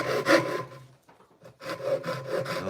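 A handsaw rasps through a wooden board in a workshop, with a few quick back-and-forth strokes, a short pause, then more rhythmic strokes, close and clear.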